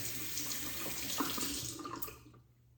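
Tap water runs steadily into a sink as a razor is rinsed during a head shave, a close, constant splashing rush that fades out near the end, with no talking.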